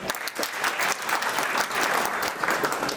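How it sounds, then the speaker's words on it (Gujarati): Audience at a community education committee event gives steady, dense applause, many hands clapping at once with no talking over it. "જે આપણા કમિટી મેમ્બરે આ આયોજન કર્યું છે એના માટે સૌથી પહેલાં તો તાળીઓ."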